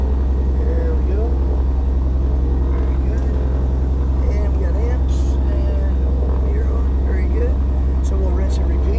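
A cold Beech Baron twin's piston engine runs steadily after start, a loud, constant low drone with a throbbing, pulsing rhythm, close and continuous throughout.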